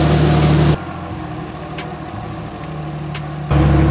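A single-turbo Toyota 1JZ car engine idling nearby, a steady low rumble with a faint rhythmic throb, briefly louder at the start and end.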